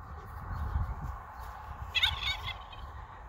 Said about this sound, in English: the turkey is chasing my new rooster